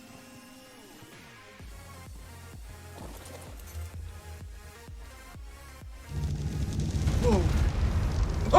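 A deep, rumbling blast erupts in a modded Ark Ragnarok game, swelling into a loud, sustained roar near the end after a run of dull thuds, and a voice exclaims in surprise.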